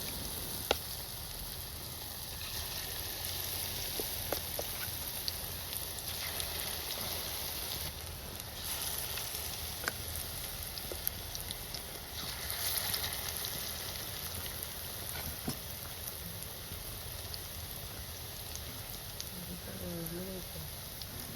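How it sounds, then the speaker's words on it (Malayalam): Small vegetable pakkavada balls fry in well-heated oil, giving a steady, soft sizzle with scattered crackles that continues without a break. "ഓയിൽ നന്നായി ചൂടായതിനു ശേഷം ചെറിയ ചെറിയ ഉരുളകളായി ഇതിലിട്ട് കൊടുക്കാം"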